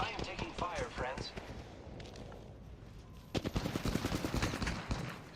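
Rapid gunfire bursts from the video game Apex Legends, with a clattering early volley, a quieter gap, then a denser, louder stretch of shots near the end, mixed with game sounds.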